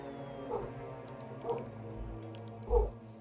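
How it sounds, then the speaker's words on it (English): A dog barks three times in short, spaced bursts, sounding somewhat distant over a low steady electronic hum. "My dog's barking again."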